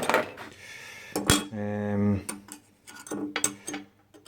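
Metal 25mm threaded socket cap head screws being handled while fitting a rail on a home-built CNC router: several sharp metallic clinks and rattles close by, with a brief ringing tone in the middle, and someone talking between the sounds.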